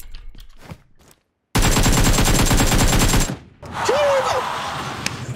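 AK rifle fire in PUBG Mobile: a long, loud, rapid automatic burst rattles in a steady beat for nearly two seconds after a brief silence, then further shooting and clatter follow.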